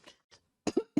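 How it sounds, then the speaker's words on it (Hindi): A teacher coughs during a biology class: two faint throat sounds, then three sharp, close coughs in quick succession. "आज तो खांसी हो गई मुझे।"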